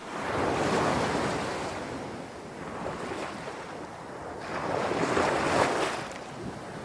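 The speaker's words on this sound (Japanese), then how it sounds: "波の音に溶けて消える" Ocean waves surge and break in broad, continuous washes, swelling louder around the start and again near the end, with wind noise over open sea as on a sailing ship at night.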